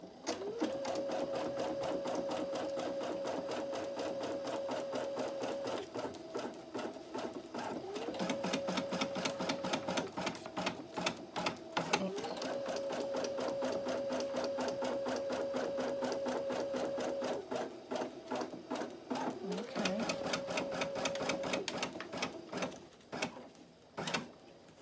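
A Brother PE800 computerized embroidery machine basting stitches, a fast steady needle rattle with a recurring motor whine, running close and continuously for most of the clip before stopping near the end.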